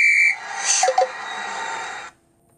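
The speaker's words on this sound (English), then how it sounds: "Only I blow the whistle." A cartoon whistle is blown in one shrill, tonal blast lasting about two seconds, with a brief warbling trill in the middle, and then cuts off into silence.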